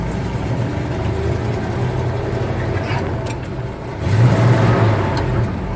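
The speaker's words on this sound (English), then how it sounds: "You'll get that revving up" A manual-transmission car engine hums steadily, then revs up louder partway through, holding a raised growl before settling, with faint voices beneath.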